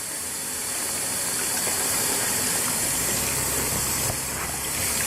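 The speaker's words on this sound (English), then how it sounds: "Fill this with water." Water gushes and hisses steadily into a container beside a lake, where freshly caught lake trout are being cleaned; a continuous, close, fairly loud rushing pour with no talk.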